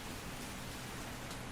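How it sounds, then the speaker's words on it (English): Steady rain falls in the Lord of the Rings video game Tales of the Shire, a soft, even hiss of game rain that holds without breaks and with no speech over it. "The rain in the game is great."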